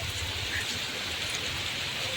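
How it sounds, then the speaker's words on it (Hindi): Steady, dense hiss of heavy rain falling, a continuous wash of drops with no talking. "बारिश तो खूब हो रही है"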